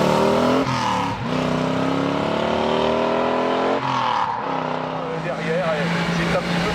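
Chrysler historic rally car engine roaring loud and close, revving through gears with sharp shifts and a dip around the middle, under a voice speaking.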